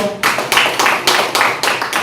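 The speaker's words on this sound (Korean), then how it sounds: "박수 한번 주십시오." Audience clapping at an outdoor literary festival poetry event, coming as a series of loud, broadband bursts in a steady pulse of roughly four per second across two seconds, with no voices over it.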